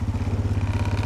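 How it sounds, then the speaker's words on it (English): Tractor engine running steadily with a rhythmic low throb while tree branches scrape and clatter across the cab roof, close and loud. "that's just scraping the roof of my tractor now"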